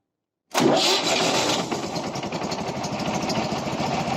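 A Prykarpattia mini tractor engine cranks and fires after a moment of silence, catching abruptly and loudly, then settling into a steady, slightly fast, rough idle close by.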